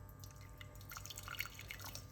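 Hot water trickling into a cooking pot for a creamy vegetable soup: faint, quiet drips and splashes that come in a loose, irregular patter.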